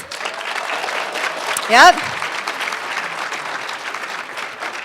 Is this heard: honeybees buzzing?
no